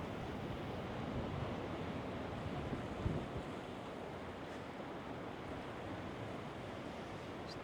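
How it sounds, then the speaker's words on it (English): Wind blows steadily at an empty beach with surf behind it, making a continuous broadband rush and buffeting on the microphone with no voices. "There's definitely some wind about."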